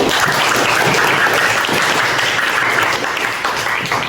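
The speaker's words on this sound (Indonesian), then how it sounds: "kita berikan aplaus dulu" Students in a classroom applaud together in loud, sustained clapping that fills the space evenly and eases off slightly near the end.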